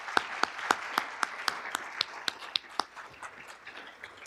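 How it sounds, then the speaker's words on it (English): Sparse, light applause at a university outreach and engagement awards ceremony honoring graduate students, a handful of distinct claps in an uneven rhythm that thins out toward the end. "could we just please give one more round of applause to these outstanding graduate"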